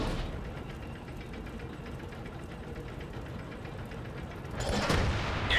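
In World of Tanks, an M103 tank cannon blast booms out near the end on the Himmelsdorf map, a sharp broadband burst over a steady rumbling engine drone.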